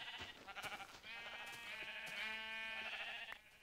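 Sheep bleating in a blocky sandbox video game, several wavering bleats that overlap and run together into a long drawn-out call, fairly faint with small clicks and taps in the background.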